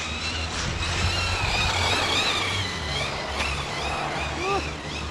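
Hobao 10SC radio-controlled car drifting on damp ground, its small motor whining and revving in bursts with a rising pitch, while someone talks over it.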